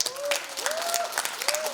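An audience at a public forum on a provincial student rights ordinance breaks into brisk, lively applause, many hands clapping at once, with a faint whistle-like tone rising over the crowd.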